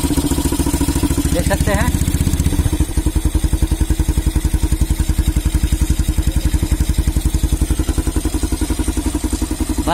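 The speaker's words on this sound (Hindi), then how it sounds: "अब यहाँ पे मैं थोड़ा रेस देता हूँ" Honda CB Twister motorcycle engine after a fuel setting adjustment, loud and close with a rapid even firing pulse, a brief rev then settling into a steady fast idle; someone speaks briefly over it.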